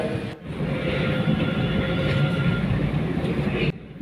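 An Indonesian commuter train, the Kereta Api, rumbles past with a loud, sustained roar of wheels and motors that cuts off abruptly near the end.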